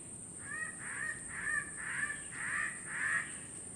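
A king bird of paradise, a tiny bird of the Papuan forests, gives a run of six harsh, cawing calls in steady rhythm, moderately distant over a constant high insect whine.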